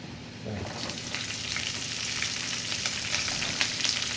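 Urad dal, onion and green chilies crackle and sizzle in a hot oiled pan, a steady close frying hiss with occasional stirring scrapes.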